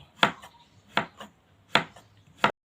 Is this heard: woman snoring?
no